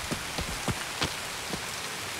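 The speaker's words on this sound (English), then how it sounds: "Rain's fucking great, man." Rain in Escape From Tarkov falls as a steady, hissing wash, with a few louder drops or taps standing out at irregular moments over the constant patter.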